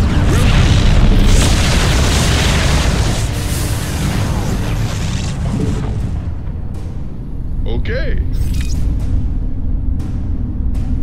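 A Battlecruiser in StarCraft 2 fires its Yamato cannon, a loud, sustained booming blast that fills the first half, then fades into quieter game effects and short electronic blips, with voices speaking over it.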